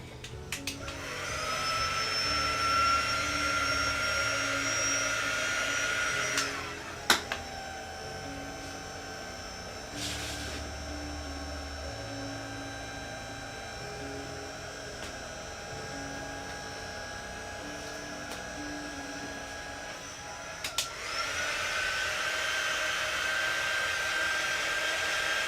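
A hair dryer runs steadily on a craft project, a loud continuous whirring blow that pauses briefly twice as it is moved, with no talk over it.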